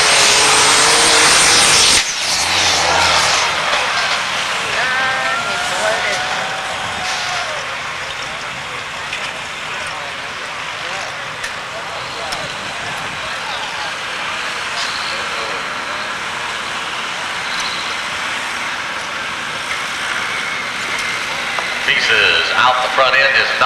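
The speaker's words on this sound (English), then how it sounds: "It sounded pretty good, lifted the front end up, had the engine RPMs up, the wheel speed came up real quickly" Pulling tractor at a Grand National truck and tractor pull, its engine roaring at high RPM throughout a long run, loud and sustained with a harsh broadband drone, while an announcer talks over it.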